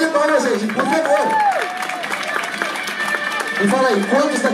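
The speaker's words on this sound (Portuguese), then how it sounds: "palmas, gente, por favor" A crowd applauds and cheers at a cosplay parade, a dense, steady wash of clapping and shouts holding loud for the whole stretch with whistles and voices rising through it.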